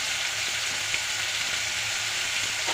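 Dried red chilies and radish sizzle steadily in hot oil for a radish chutney, a continuous close frying hiss with faint stirring ticks underneath and no voices.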